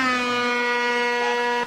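A steady air horn sound effect blares alone at full strength with a bright, buzzy tone and cuts off abruptly after under two seconds, played on a keyboard key during an online event.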